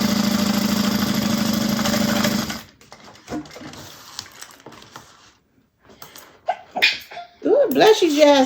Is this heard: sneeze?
yes